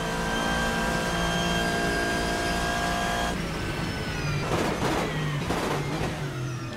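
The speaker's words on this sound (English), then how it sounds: "that clunking downshift sound, very present here in the Lux" Racing car in the Assetto Corsa sim, a GT3-class Lux, at steady high engine whine, then a drop with several clunking downshift thumps and revs near the end, loud and close with no talk.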